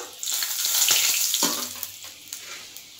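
Whole spices tempering in hot oil in a pan, a bright close sizzle that swells and then eases, with a few sharp crackles and stirring scrapes.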